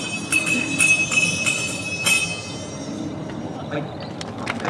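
Small Aomori Nebuta festival hand bells ring in a quick, jangling rhythm on a stage, bright metallic strikes repeating over a faint background murmur, then fading.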